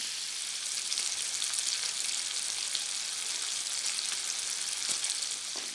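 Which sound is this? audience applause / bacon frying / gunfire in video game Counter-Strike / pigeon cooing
bacon frying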